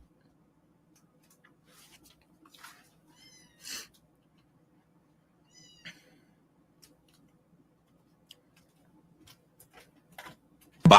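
A few short, faint cat meows spaced apart over near silence, with light clicks between them and a sudden loud noise at the very end.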